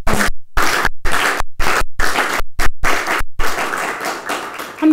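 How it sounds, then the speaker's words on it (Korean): Applause from a political party convention crowd as a presidential candidate is chosen: loud, sustained clapping that fills the whole clip, broken by brief gaps. "여러분 큰 박수로 다시 한번 격려해 주십시오."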